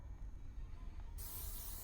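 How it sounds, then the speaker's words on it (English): Pepper spray fired in the horror video game Granny, a short burst of loud broadband hissing that cuts in abruptly after a second of quiet low rumble and continues steadily to the end. "we got a pepper spray"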